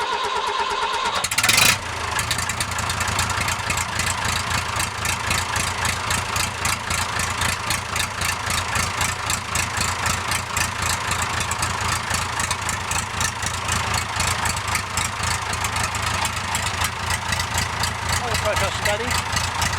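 A David Brown 990 Selectamatic tractor engine cranks briefly, fires and settles into a steady, loud diesel idle with an even rapid chugging pulse that runs throughout, with some voices heard in the background.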